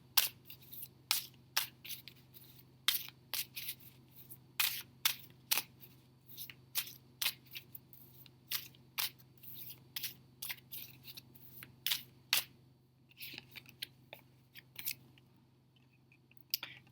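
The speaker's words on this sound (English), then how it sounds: "I'm gonna pull some more cards for group 1." Tarot cards drawn from a deck during a reading, a string of sharp, quiet card flicks and snaps at irregular intervals over a low steady hum, with no voices.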